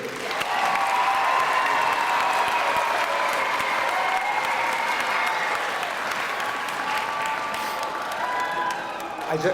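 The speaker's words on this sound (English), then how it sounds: "Nice round of applause for Principal Sayegh." A crowd at a school event for PEARLS Hawthorne School gives sustained applause for the principal, a loud, continuous wash of many hands clapping that holds steady for several seconds with faint tonal hum beneath.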